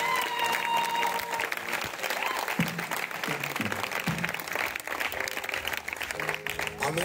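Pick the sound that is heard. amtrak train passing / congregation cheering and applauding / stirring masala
congregation cheering and applauding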